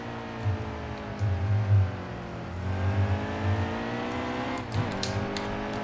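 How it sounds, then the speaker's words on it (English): Stock Chevrolet Cup car, number 28, racing at Watkins Glen in NASCAR Heat 2, its engine droning steadily with rising and falling revs and a brief lift near the end, loud and continuous with no talk. "I'm pretty happy with our number 28 704 game Chevrolet car."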